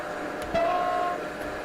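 An ICE 2 high-speed train in Train Simulator 2022 sounds its horn: one short, steady tonal blast of about half a second over a constant rolling rumble.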